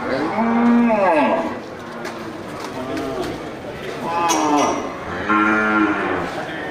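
Cattle at a busy livestock market lowing in three long, drawn-out moos, close by, over a background of crowd chatter and movement.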